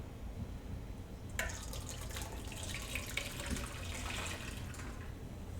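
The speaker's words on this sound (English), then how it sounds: "pour the mixture of vinegar and unpasteurized milk into here" A mixture of vinegar and unpasteurized milk pours through cheesecloth in a steady, soft, close stream that splashes gently and keeps running throughout.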